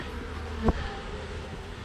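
Honey bees buzz around honey frames as they are set out to be licked clean after extraction, a steady low hum with one brief louder pass of a bee close by.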